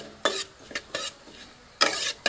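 Lentils and coriander seeds dry-roasting in a pan, heard as four or five short, bright scraping strokes of a spoon with brief quiet gaps between them, close up and without talk.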